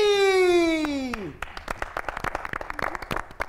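Audience applause welcoming a guest onto a comedy show stage, a dense patter of clapping that rises after a sustained sung or spoken tone and continues steadily to the end.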